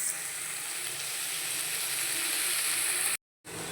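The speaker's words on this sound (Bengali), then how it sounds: "এতে একটু পেঁয়াজটা বেশিই লাগবে, লাল করে ভেজে নেবো গোল্ডেন কালার হয়ে গেলে" Onions fry in hot oil in a pan with a loud, continuous hiss and crackle, close up, cutting off briefly near the end before returning.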